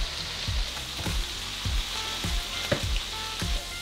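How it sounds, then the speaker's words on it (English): Pork pieces hitting smoking-hot olive oil for chili verde, with a steady loud sizzle and crackle throughout and repeated sharp stirring or tossing clatters roughly every three-quarters of a second. "After you see the olive oil starting to smoke a little bit, go ahead and throw your pork in."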